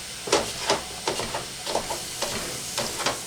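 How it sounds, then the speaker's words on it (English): A utensil stirs and breaks up thawed ground meat sizzling in a hot pan for lasagna, with repeated scraping strokes over a steady frying hiss, close and clear. "you need something to stir it with and break it up"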